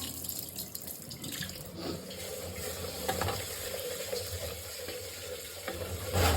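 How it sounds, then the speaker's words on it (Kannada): Rice being rinsed under a running kitchen tap for a masala kushka, with continuous water splashing and gentle swishing, fairly close and steady, no talk. "ಅಕ್ಕಿ ತೊಳ್ಕೊಡ್ತಾರೆ"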